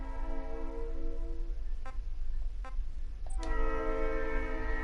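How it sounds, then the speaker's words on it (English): A train goes by with a horn sounding a steady multi-tone chord that cuts out briefly near the middle and returns, over a continuous low rumble of rail traffic; no one speaks. "Suddenly, a train."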